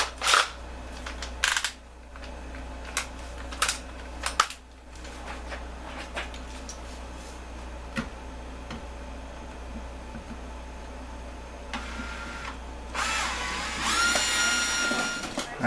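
A power driver with its torque turned down whirs in short bursts while guitar string trees are fitted, mixed with scattered clicks and handling of small parts, close up.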